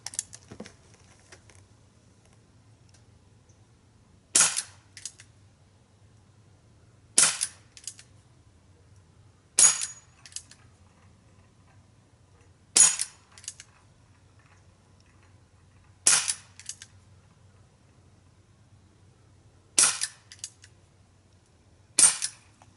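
A CO2 pellet gun firing Vigilante pellets at an Umarex multi-target system, seven sharp crisp shots spaced a few seconds apart, close and loud against a quiet low hum.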